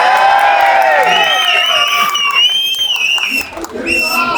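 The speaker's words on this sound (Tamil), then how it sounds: "கைத்தட்டு." A theatre crowd in Madurai greets a film team with loud, sustained cheering, high whistles and shouting, with some clapping mixed into the din.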